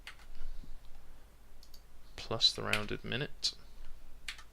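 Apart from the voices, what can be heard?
typing a formula on a computer keyboard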